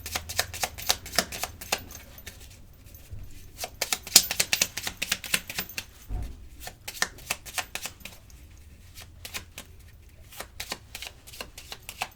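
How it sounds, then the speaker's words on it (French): Tarot cards shuffled and drawn, with rapid crisp riffling bursts and flicks repeating for several seconds close up, short quiet pauses between them, no talk. "on va tirer une carte"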